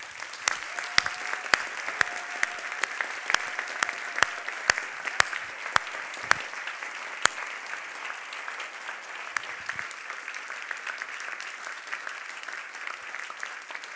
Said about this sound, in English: I hope that you will join me in a round of applause for them